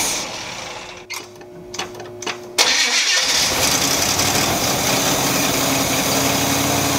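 Car engine with a rebuilt Rochester Quadrajet four-barrel carburetor cranking in a few short bursts, then catching and settling into a loud, steady rumbling run.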